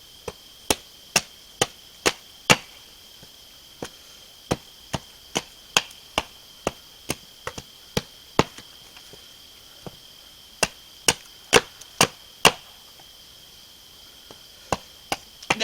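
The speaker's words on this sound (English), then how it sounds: "So I'm going to chop this pith off." An axe or hatchet chops the soft pith from a piece of wood: about thirty sharp, close, dry strikes at a steady, unhurried pace with brief pauses, and a faint insect-like hum in the background.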